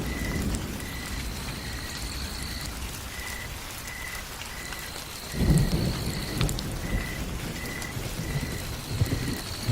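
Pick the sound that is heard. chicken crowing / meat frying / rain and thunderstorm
rain and thunderstorm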